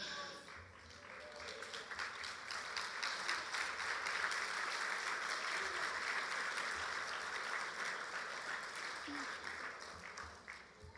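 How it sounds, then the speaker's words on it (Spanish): A church congregation at a Sunday service bursts into sustained applause, a dense wash of many hands clapping that swells and holds for several seconds before easing slightly. "Ese aplauso es para el Señor que se llama fuerte."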